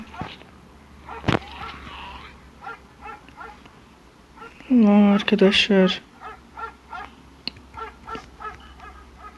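A dog barks loudly in a quick burst of several yelps amid Roblox game sounds, while a person talks before and after.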